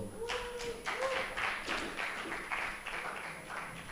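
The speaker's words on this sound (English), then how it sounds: "Can we have a round of applause for all of them?" Audience applause for four debate teams and a judging panel at a novice debating finals, a steady wash of clapping of moderate loudness filling the room, with faint voices underneath.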